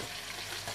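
Pork fries in hot oil in a pan with a dense, continuous sizzle, close and steady throughout.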